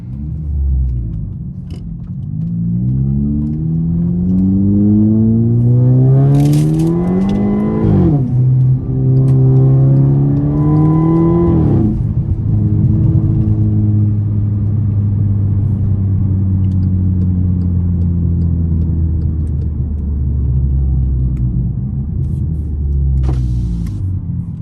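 A Volkswagen Passat R-Line on 93 octane with nitro additive, driven at night with the windows open, gives a loud, steady engine drone, rising through revs in two pulls with gear changes before settling into a constant cruising rumble.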